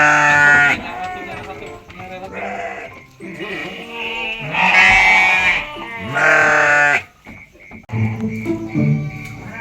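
Sheep bleating loudly and repeatedly in a rural setting in a Sundanese comedy short film, several drawn-out wavering calls close by with brief gaps between them.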